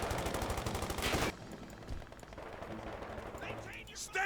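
A burst of MG42 machine gun fire rattles in a Company of Heroes 2 match, a rapid, loud stream that cuts off after about a second. Softer scattered battle sounds and a commentator's voice follow.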